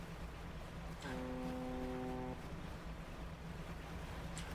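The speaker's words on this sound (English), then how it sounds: "You have a foghorn." A boat's foghorn sounds in the fishing video game Dredge: a single deep, sustained blast of about a second and a half, clearly louder than the steady ocean wind and water ambience that runs underneath and continues after it fades.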